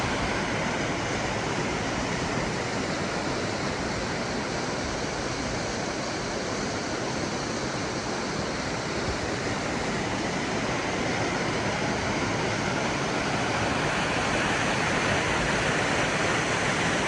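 Steady rushing of a creek or small river along a hiking trail, a dense, continuous broadband wash of flowing water that holds the same level throughout with no voices.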